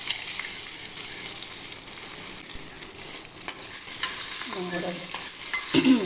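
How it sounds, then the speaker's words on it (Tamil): Mango pieces fry in ghee in a pan while being stirred for a mango payasam, a steady close sizzle with scraping stir strokes and a few brighter crackles near the end. "இது வந்து ஒரு கொஞ்சம் மாம்பழ துண்டுகள் பீஸ், அதை கூட நெய்யில் வறுத்துட்டு கடைசியில் பாயசத்தில் சேர்த்துருவோம்"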